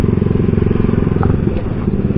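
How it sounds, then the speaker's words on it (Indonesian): A motorcycle exhaust revved with its valve closed gives a steady, throbbing low rumble with a pulsing beat, close and continuous, briefly rising a touch near the middle. "gue justru suka suaranya kalau digeber dengan posisi valve ditutup gini"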